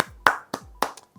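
Three sharp hand claps spaced evenly about a quarter-second apart, close and crisp, with no voices.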